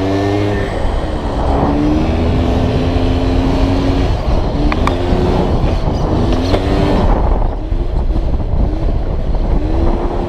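A motorcycle engine revs hard and steadily during a wheelie, with the front wheel held up; the loud, close engine note rises and falls in pitch several times with no speech.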